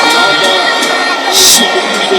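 A loud, close crowd cheers and celebrates at New Amani Complex after the Muungano Cup 2026 final, a dense wash of shouting with a brief louder surge partway through.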